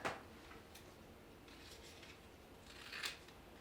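Scissors snip through kinesiology tape for pregnancy taping, a soft close cut near the start and another near the end, with faint handling rustle between and no talk.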